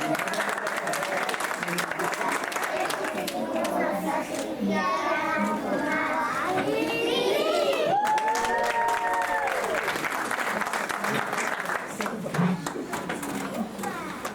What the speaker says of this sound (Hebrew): תנו לנו כפיים